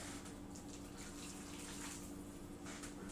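Boiling water poured into a roasting pan to deglaze it after a splash of port wine, a steady gushing pour heard close and continuous throughout, no talk.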